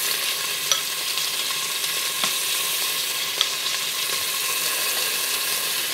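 Pork pieces sear in hot oil pooled at one side of a curved-bottomed pot, a loud continuous sizzle with a few sharp pops and crackles throughout, no voices.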